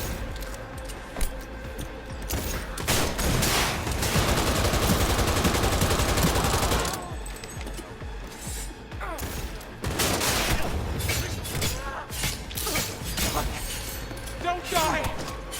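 Rapid bursts of gunfire in the video game Cyberpunk 2077 form a loud, dense barrage that peaks in the middle, followed by scattered shots, with someone talking over it.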